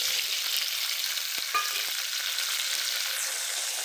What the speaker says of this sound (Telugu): ఈ టమాటాలు మగ్గాలి బాగా.